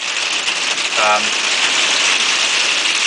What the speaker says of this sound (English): it was really tipping down with rain